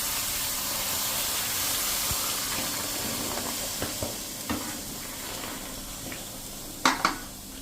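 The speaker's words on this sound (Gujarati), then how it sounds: "એને આપણે કન્ટિન્યુ આ રીતે ચલાવતા રહેશું એટલે આપણી જે ખાંડ છે ને એ ઓગળી જાય" Caramelized sugar with about a quarter cup of milk added sizzles and hisses steadily in a pan over a low flame, with a spoon occasionally scraping and tapping through it, two sharper knocks near the end.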